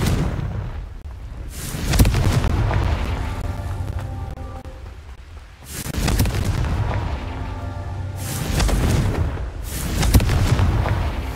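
Confringo fire spells explode in the video game Hogwarts Legacy, four heavy booming blasts spaced a few seconds apart, each with a deep rumbling tail that fades before the next hit.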